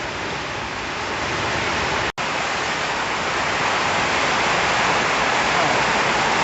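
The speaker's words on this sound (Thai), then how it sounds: "วันนี้นะฝนตกแรงมากท่านผู้ชม อาจจะได้ยินเสียงฝนตลอดเวลาเนาะ" Heavy rain pours down in a loud, dense, unbroken hiss that fills the whole stretch, interrupted only by one very brief cut.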